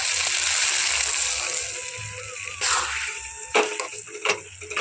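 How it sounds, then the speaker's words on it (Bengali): Water saved from cooking pointed gourd is poured into a hot cooking pan for potol bharta, making a steady hissing splash that fades into a few sharp clatters and knocks near the end. "যে জলটা পটলের বের করে রেখেছিলাম সেই জলটা এখন এখানে দিয়ে দেব"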